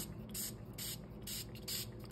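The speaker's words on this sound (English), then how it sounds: "So I'm just gonna spray it really good." A handheld spray bottle mists water onto colored paper in about five quick, close hissing bursts at a brisk, even rhythm, with no talking.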